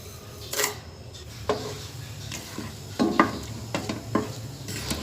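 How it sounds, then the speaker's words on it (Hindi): Whole black peppercorns and cumin seeds frying in hot oil for an aloo palak, giving a soft steady sizzle with a few sharp pops and stirring clinks spaced through it, close and fairly quiet, with no talking. "इसको चंद सेकंड हम फ्राई करेंगे जब तक ये जो गोल मिर्चें नहीं थोड़ी सी फूल ना जाए"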